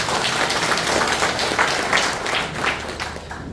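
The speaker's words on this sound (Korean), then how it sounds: "반가운께 박수 한번 쳐주십시오." An audience at a Democratic Party members' gathering claps in a steady, moderately loud round of applause that fades slightly at the end.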